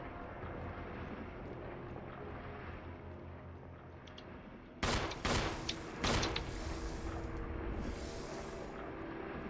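Gunfire from the Resident Evil REmaster video game: two sharp, loud shots about a second apart, following a dull rumbling ambience.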